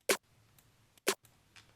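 Two punchy layered hits, two snares stacked with a clap, land about a second apart, each sharp and full-bodied, with faint ghost ticks between them and no voices.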